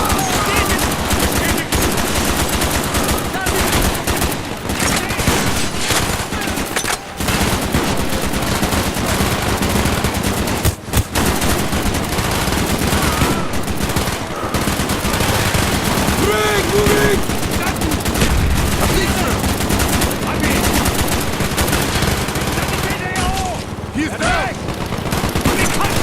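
Sustained automatic gunfire and explosions from a 2010 Call of Duty: Black Ops campaign battle on PC, loud and dense throughout, with rapid machine-gun bursts and shots layered over game effects and occasional shouted voices.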